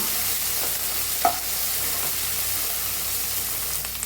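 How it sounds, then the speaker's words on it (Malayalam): Tomato and green chilli are stirred in a sizzling pan for a white chickpea curry, with a constant close frying hiss and occasional light spoon scrapes and taps. "ഇനി ഒന്ന് നന്നായി ഇളക്കി കൊടുക്കാം"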